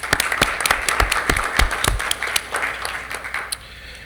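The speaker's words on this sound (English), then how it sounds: "Let's give them a round of applause" An audience at a school board meeting claps for National Merit Scholarship recipients, a thin, fairly quiet round with distinct individual claps standing out early, tapering away after about three seconds.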